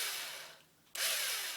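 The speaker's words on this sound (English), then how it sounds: "As I'm drilling, I just do little bursts, and I rotate the arrow dowel around" A power drill bores into a wooden arrow dowel in short bursts, a loud whining buzz that dips briefly, then surges back up close to the mic.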